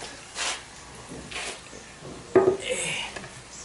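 A small ceramic bonsai pot from a mini forest planting is lifted off during repotting, giving soft scrapes and rubbing followed by a brief clatter of the pot being set down, quiet and close.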